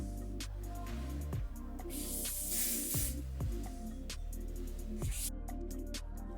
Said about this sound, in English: I make sure that it's a full spray, so that's why you see me spraying it again.